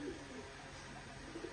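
A female tournament pigeon coos softly and faintly, a low, muffled murmur lasting barely a couple of seconds.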